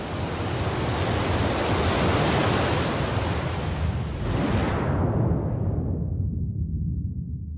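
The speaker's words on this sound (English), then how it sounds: "underwater landslides that produce these tsunami waves that rush on shore" Tsunami waves rushing on shore, a heavy continuous roar of churning surf and water that stays loud and dense, then eases and thins toward the end, with no voices.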